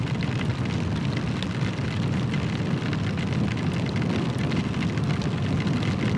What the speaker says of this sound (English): That is some cold rain.